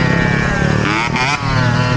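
A motorcycle engine roars steadily and loudly at close range during a wheelie, its pitch shifting briefly midway with a short dip before the steady drone resumes.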